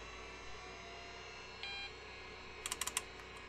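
Clicky keystrokes on an AT&T PC6300 computer keyboard, a short burst of about five quick taps near the end, preceded by a brief electronic beep over steady machine hum.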